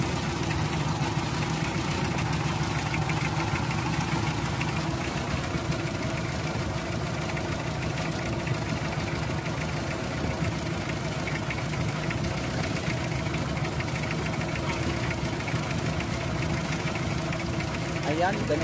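Toyota 2C diesel engine idling roughly after the fuel has been pumped, with a steady uneven low knocking rumble throughout, close and continuous.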